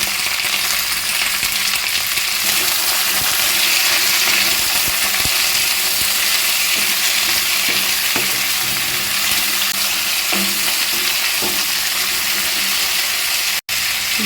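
Ridge gourd, yardlong beans and Malabar spinach stalks fry in a pan for a mixed vegetable curry, giving a loud, steady, close sizzle throughout, with occasional soft clicks from stirring.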